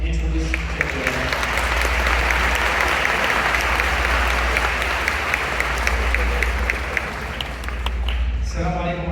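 A large crowd at an Islamic lecture program applauds warmly for a sheikh, a dense and sustained roar of clapping over a low hum, with a voice emerging right at the end.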